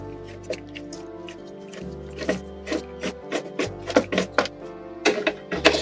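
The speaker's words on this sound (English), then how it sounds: "remove all the screws at the back." A screwdriver works screws loose from the back panel of a desktop monitor, giving close, irregular scraping and ticking clicks over a low hum, growing busier toward the end.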